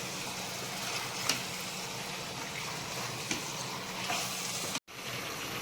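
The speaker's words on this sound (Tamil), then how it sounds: "சிக்கன் எல்லாம் நல்லா ரோஸ்ட் ஆகணும் ஆயில்ல." Chicken roasts in hot oil for a homemade Hyderabadi biryani, giving a steady, close sizzle and crackle throughout, with a few soft clicks of stirring.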